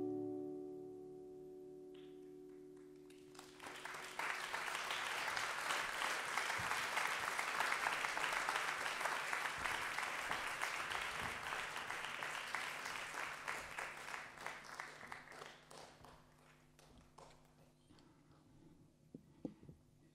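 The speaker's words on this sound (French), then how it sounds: "sous un tonnerre d'applaudissements" A concert audience breaks into loud, sustained applause, dense clapping that swells after a quiet opening, holds for about ten seconds and then thins out to scattered claps.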